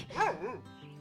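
A dog in a video game gives a short, close whimpering yelp that rises and falls, followed by quiet game background sound.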